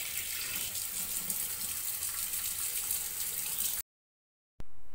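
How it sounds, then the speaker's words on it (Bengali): Tap water runs steadily into a sink while meat is washed, a loud continuous splashing gush that cuts off abruptly near the end. "মাংসটা ধুয়ে ফেলেছি।"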